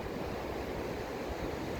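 Ocean surf washes on a beach with a steady broad roar, continuous and fairly soft, mixed with some wind rumble against the microphone.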